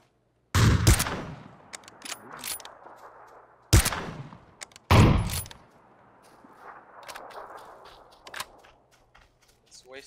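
Gunfire in the battle-royale video game PUBG comes as a few sharp, loud shots and short bursts separated by quieter stretches, with faint game sounds between.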